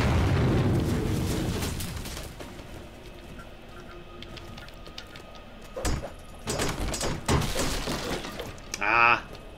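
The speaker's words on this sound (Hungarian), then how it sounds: "Ezt nyilván ezt fel kell robbantani." Giant barrels explode in the video game MorphX with a heavy blast and shattering debris at the start, followed by scattered crashes and bursts, with someone talking over parts of it.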